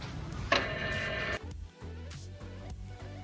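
A shirt printer in a print shop adjusts its height, giving a steady mechanical whir with a brighter tonal hum that cuts off abruptly, followed by quieter motor clicks and shifting, close by and without speech.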